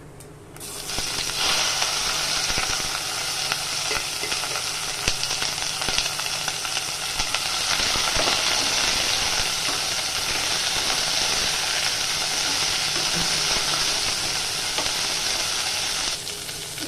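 Sliced onion, green chilli and garlic cloves fry in hot oil in a pan, giving a loud, steady sizzle that holds unbroken for about fifteen seconds after a short pause at the start, with no talking.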